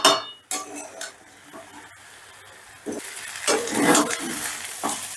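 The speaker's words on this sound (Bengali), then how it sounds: "মিডিয়ামে রেখে চালটা দিয়েও আমি বেশ ভালো করে কষে নেব" Rice for a yakhni potato pulao is roasted and stirred in a pan over medium heat: a close, uneven sizzle with scraping stirs that grow louder toward the end.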